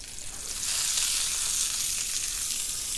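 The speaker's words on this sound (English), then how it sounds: "We're going to roast these vegetables on the same sizzle plate as the lamb." Vegetables sizzle on a hot restaurant sizzle plate shared with lamb, a steady, close, bright hiss of frying with no pauses and no talking.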